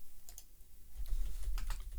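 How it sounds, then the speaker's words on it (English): Computer keyboard typing, a quick run of light clicks and taps that grows busier and louder toward the end, close up with no talking. "I'm typing Star Wars news into Google"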